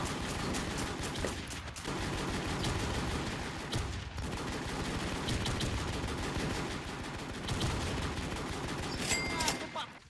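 Sustained gunfire in a shooter game, with rapid automatic bursts and sharp single shots layered thickly and close, continuing almost without pause while voices occasionally talk underneath.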